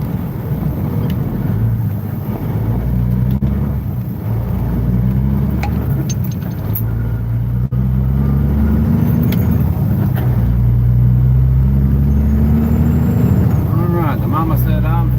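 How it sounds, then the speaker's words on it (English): Steady road traffic at a busy spot between Memphis, Tennessee and Kansas City, Missouri, with a continuous low rumble of cars and trucks passing close by under ongoing talk. "A lot of traffic through here,"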